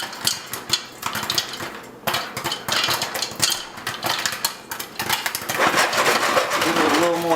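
A pot of popcorn shaken on a stovetop over fairly high heat gives a dense run of metallic rattling and clattering, continuous and close, with the sound thickening toward the end.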